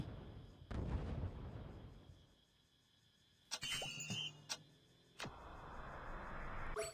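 A gun in a video game fires three-round bursts: a few sharp, fairly faint shots in quick clusters over low background game ambience.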